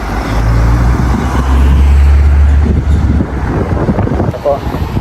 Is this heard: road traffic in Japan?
yes